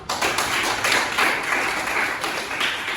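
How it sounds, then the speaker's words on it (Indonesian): Classroom of students clapping hands together at the end of a lesson, a dense steady wash of many hands for about three seconds, fairly close with no voices. "Oke, tepuk tangan untuk kita semuanya."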